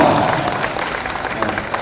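A crowd at a motorcycle product event claps for a rider back from a biking trip in Bhutan with his mother, brief, moderately loud applause with a murmur of voices.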